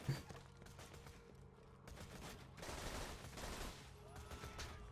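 Pistol shots in the Borderlands 2 video game, a scatter of sharp reports over a steady game soundscape, quieter early and denser toward the end, with faint speech mixed in.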